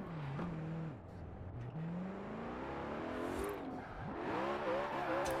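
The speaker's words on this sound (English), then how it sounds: "As the car majestically drifts into the snow, it even just spins out randomly." A car drives and drifts into snow, its engine note rising and falling through revs with tonal whine, steady and fairly close, alone without talk.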